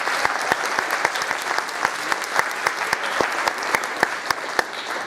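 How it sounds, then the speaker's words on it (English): At a school winter concert, the audience gives a warm round of applause for parents helping in the lobby, with steady crowd clapping and distinct sharp individual claps standing out near the microphone. "can you please give them a big round of applause?"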